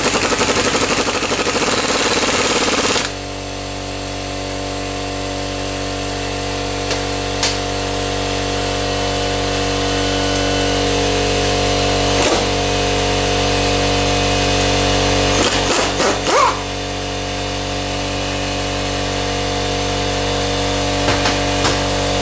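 A power tool tightens a strut nut during a front strut replacement on a 1999 Pontiac Grand Am. A steady, loud mechanical drone runs without a break for most of the clip, with a brief rougher start.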